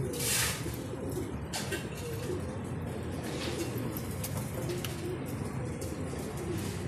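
Racing pigeons coo softly and continuously close by, a low murmuring rumble with occasional flutters and light scraping noises.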